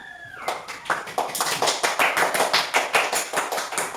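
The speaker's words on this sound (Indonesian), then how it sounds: "Tepuk tangan" Children in a primary school classroom clap together in a quick, rhythmic unison pattern, loud and close, after a brief teacher's voice at the start.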